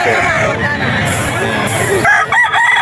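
A rooster crows at a busy pet market, a loud drawn-out call rising over crowd babble while people talk nearby.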